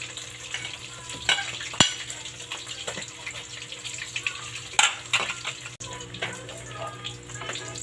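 Vegetables are added to a hot pan and fry with a steady hiss and sizzle, with scattered sharp clatters and stirring noises.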